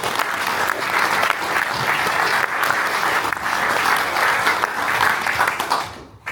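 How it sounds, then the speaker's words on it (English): Loud, sustained applause from a large audience at a mayoral hustings, steady dense clapping throughout before fading out at the very end. "Please give them a round of applause."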